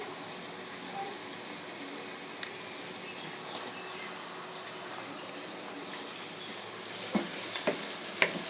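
Onions frying in hot oil in a pan for a bitter gourd fry, a steady low sizzle throughout that grows slightly louder near the end, with a few faint clinks of stirring.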